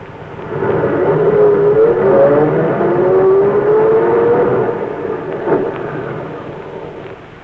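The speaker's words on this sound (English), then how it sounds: "open the gates while I drive through" A car engine hums and rises as the vehicle drives slowly through estate gates in an old radio drama, a loud steady rumble that fades toward the end.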